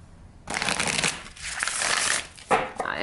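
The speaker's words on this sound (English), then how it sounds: "let's give it a riffle shuffle" A deck of thin-cardstock tarot cards being riffle shuffled up close, with two bursts of fluttering card riffles followed by a short bridge and cascade, no talking.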